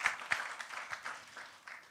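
Church congregation applauding, a quiet, somewhat distant patter of clapping that fades out over a couple of seconds.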